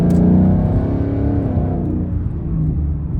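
Ford Mustang fitted with a Corsa Extreme exhaust, a single loud rev whose deep, harmonic-rich tone swells at the start and then drops and fades back toward a lower rumble, with no talk.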